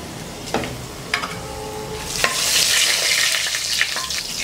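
Whole masala spices frying on low flame in a pan for traditional village mutton curry: a few distinct crackles and stirring scrapes, then the sizzle swells into a loud, continuous hiss that fills the second half.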